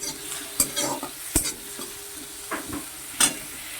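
Onions fry in oil left over from cooking pointed gourd, a soft crackling sizzle broken by several sharp utensil scrapes and taps as they are stirred in the pan.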